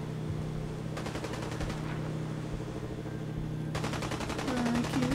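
Gunfire in the Fallout 4 video game in hardcore survival mode: two bursts of rapid automatic fire, the second longer and louder, over a steady low hum, with a brief tonal game sound near the end.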